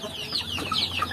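Chickens on a village free-range chicken farm clucking in short, repeated calls, several birds close by and fairly loud, with no one talking.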